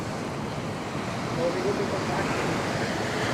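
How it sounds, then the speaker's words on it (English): Ocean surf breaking on a beach at Cabo, a steady broad wash of waves with wind noise running throughout at fairly close range, with no clear voices. "We got some waves coming."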